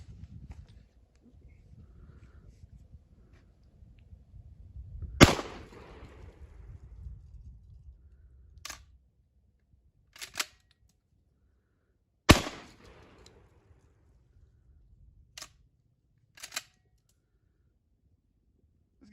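A Beretta 1301 shotgun fires Remington rounds at a range, giving about six sharp, loud reports spaced irregularly over quiet pauses, with low rumbling in between.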